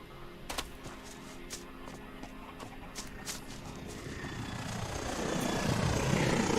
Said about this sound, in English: I'm also a little bit triggered by the helicopter thingies